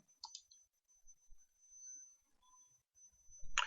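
A single computer mouse click on a photo editor's done button, a sharp faint tick near the start, then quiet room tone and a brief louder clatter at the end.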